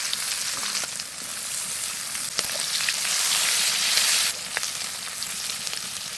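Onions sizzle in hot oil in a pan for a sea fish masala curry, a loud, close, continuous crackling hiss with a few sharp pops and no talking.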